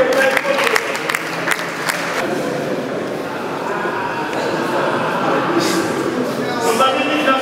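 Audience applause at a martial arts and combat sports demonstration, a steady crackling wash of clapping that runs the whole time with voices talking over it.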